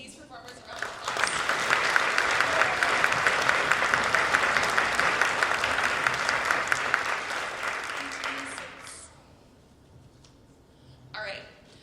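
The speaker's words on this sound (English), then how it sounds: "Can we please give these performers a round of applause?" Audience applause for student band performers at a 7th grade band concert, building into dense sustained clapping for several seconds before fading out, followed by a brief voice near the end.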